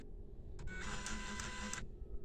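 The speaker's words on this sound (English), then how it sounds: "the printer is automatically going to the head clean." A DTG (direct-to-garment) printer starts its automatic head cleaning, whirring to life with a short mechanical clunk, running a steady motorized buzz for about a second, then stopping abruptly.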